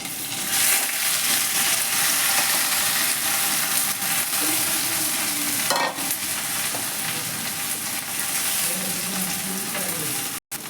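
Boiled potatoes stir-fried in a pan with mustard seeds and curry leaves, a loud continuous sizzle under steady scraping stirring, close up, with a brief knock near the end.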